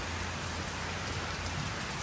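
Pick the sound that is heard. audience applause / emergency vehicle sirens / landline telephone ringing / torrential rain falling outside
torrential rain falling outside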